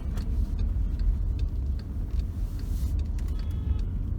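Road traffic in a neighbourhood, with cars passing close by in a steady low rumble of engines and tyres and a few faint clicks and ticks over it.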